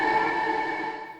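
A sustained, smeared tonal drone with bright ringing overtones, slowly fading over about a second like a time-stretched effect.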